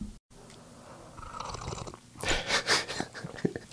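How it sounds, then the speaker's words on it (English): Several wet, airy slurps come in quick bursts, close and fairly loud, after a quieter stretch of faint rustling. "Sorry to those of you who hate the sound of slurping."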